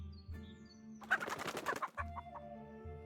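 A chicken in the game Discovery: Temporian clucks and squawks in a short loud burst as it is killed, over soft game music tones, with no voices.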